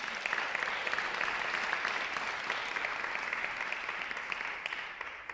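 Guests at an Inspiring Women evening at the Isabel applaud warmly, a sustained patter of many hands with a few sharper individual claps, holding at moderate volume before gradually fading near the close.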